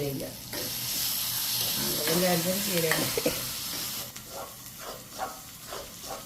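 Mustard seeds crackle and sizzle in hot oil, a steady hiss with faint popping bursts toward the end. A voice speaks briefly over it partway through.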